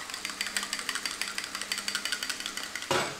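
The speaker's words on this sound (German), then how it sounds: "Verquirlen." Egg and cream mixture for a quiche Lorraine being whisked briskly in a bowl, a steady fast rhythm of tapping strokes running throughout, ending in a brief louder clatter.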